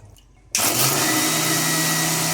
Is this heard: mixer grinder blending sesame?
yes